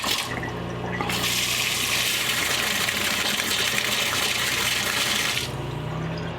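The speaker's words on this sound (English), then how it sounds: "Let's see if I got some water." A newly installed kitchen faucet in a 2015 Thor Vegas motorhome gushes water steadily for several seconds, loud and close, with a sputtering hiss from air in the lines as it starts and stops, beneath a low hum.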